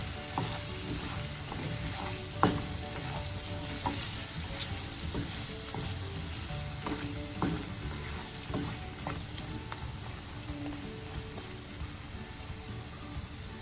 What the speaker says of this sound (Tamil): நல்லா அதோட பச்சை வாசனை போகணும், அது வரைக்கும் நல்லா ஃப்ரை பண்ண போகிறோம்.